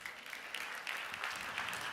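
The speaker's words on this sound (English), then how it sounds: "You can clap," Faint audience clapping from many hands rises in a steady patter during a talk, quiet and somewhat distant throughout.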